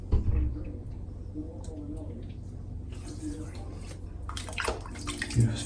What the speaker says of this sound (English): I'm just going to just wet the face down,